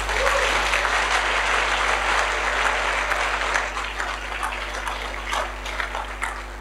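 A church congregation claps and cheers to acclaim the Lord, a dense, steady wall of applause that fills the room for several seconds and slowly fades near the end, with scattered voices mixed in.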